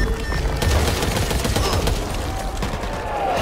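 Dense, continuous gunfire from the Back 4 Blood video game, with rapid overlapping shots and bursts filling the whole stretch at close, loud range.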